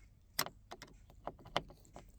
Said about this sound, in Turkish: Çıtaları çıkarıyoruz buradan.